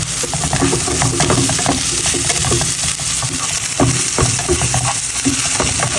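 Onions frying with sugar, salt and ginger garlic paste as a masala for prawn bhuna, a dense, loud, continuous sizzle with frequent spoon scrapes and clinks close by, no talk.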